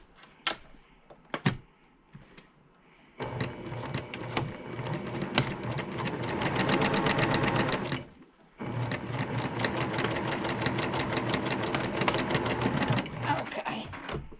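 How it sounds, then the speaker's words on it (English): A sewing machine stitches a border onto a quilt, running in two long, steady stretches of fast rhythmic needle chatter close by, after a few quiet handling clicks and with a brief pause between runs. "I am sewing the border on."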